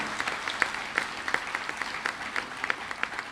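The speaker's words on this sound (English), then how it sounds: "Let us have another round of applause for that brave gentleman." A conference audience at a responsible-gaming summit applauds a speaker. The clapping is fairly quiet and evenly paced, with distinct individual claps standing out from a steady wash of hands.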